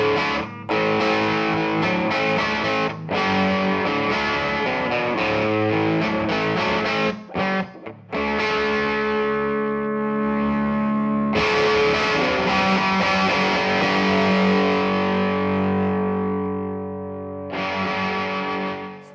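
An electric guitar plays through a 5 watt Nolatone Junebug prototype amp with preamp distortion, giving loud, continuous overdriven chords and sustained notes with brief gaps between phrases.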